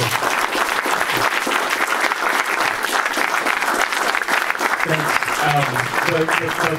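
An audience at a BetaNYC evening event breaks into loud, sustained applause, many hands clapping densely throughout, with a voice beginning to speak over it near the end.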